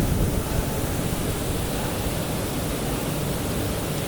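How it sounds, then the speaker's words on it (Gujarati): A 120 kW solar panel auto-cleaning system sprays water at full pressure, producing a steady, dense hiss that runs unbroken and loud throughout. "દરેક જગ્યાએ મસ્ત ફૂલ પ્રેશરથી પાણી આવી રહ્યું"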